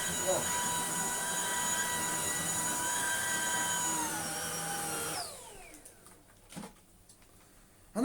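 A Shark IC160 cordless vacuum cleaner runs loud and steady on its boost setting with a high whine, then powers down and winds off about five seconds in, leaving quiet handling knocks.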